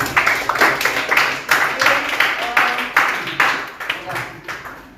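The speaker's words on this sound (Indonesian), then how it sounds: "terima kasih tepuk tangan untuk kita semua" A class in an Indonesian teacher-training session claps together in a loose series of uneven bursts of hand claps, fairly close, with some voices mixed in.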